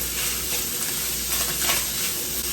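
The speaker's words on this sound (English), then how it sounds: "We're going to cook these onions down for about 2 to 3 minutes." Yellow onions fry in a pan for a ground beef dish, giving a steady, soft crackling sizzle with occasional stirring scrapes, close and even throughout, with no talking.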